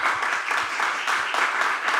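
Steady audience applause follows an announcement at a Sardinian music show, a dense continuous wash of clapping from a moderately sized crowd, even in level and without talking.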